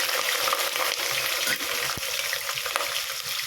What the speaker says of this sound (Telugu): ఇవి చక్కగా మంచి దూరగా వేగాలి ఆనియన్ అయితే మంచిగా వేగుతుందనమాట